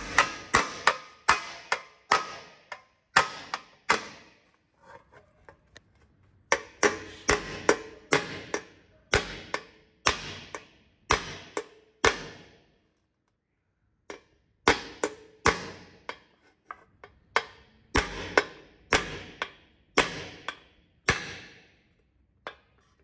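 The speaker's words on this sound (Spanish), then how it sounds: "lo agarro este martillo porque tiene más filo para sacar esta arruguita que tiene ahí" Sharp metal hammer blows knocking a small crease out of a damaged car body panel, delivered in quick bursts of several strikes separated by short pauses, ringing and close.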